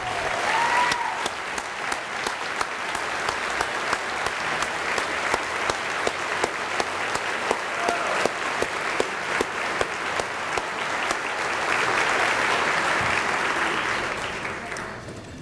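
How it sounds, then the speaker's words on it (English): An audience gives a long round of applause to salute a retiring school leader at a children's charity event, steady and full throughout with a brief swell near the end, a faint voice briefly audible over it. "please join me in saluting Ben Ledbetter with a round of applause"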